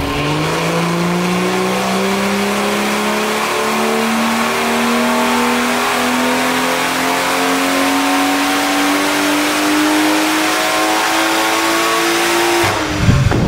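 A BMW B58 engine with a hybrid turbo pulls hard on a dyno, spark plugs gapped, its loud steady drone climbing in pitch through a long full-power run before cutting off abruptly at the end.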